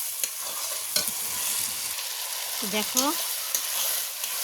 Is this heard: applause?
no